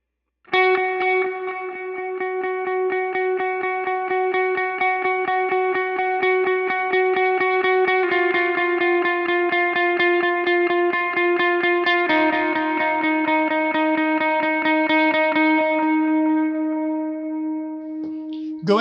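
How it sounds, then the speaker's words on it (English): A lead electric guitar plays sustained, held notes with delay and reverb, moving through a few pitch changes over a steady pulsing shimmer, loud and alone with no talking. "I'll play it a little bit closer to tempo with just a slight bit more delay and reverb that part had"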